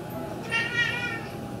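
A pet cat gives a single drawn-out meow at close range, rising and then falling, over a quiet room.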